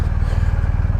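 A 2023 BMW R1250GS Rally motorcycle engine runs with a steady, close, low pulsing throb in a parking lot, loud and even with no talk.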